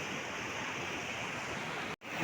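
Fast, powerful mountain river in Uttarkashi's Himalayan high country near snow bridges, a dense, steady roar of rushing water close by, continuous and broadband with a brief dropout near the end.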